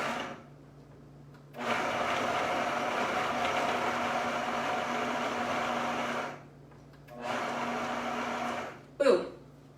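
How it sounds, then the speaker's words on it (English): A blender pulses cauliflower heads into cauliflower rice in small batches, loud steady whirring bursts with a long run, a pause, a shorter second run, then a brief clatter; no talk. "Grab a few heads, and then we're just going to pulse it in the blender."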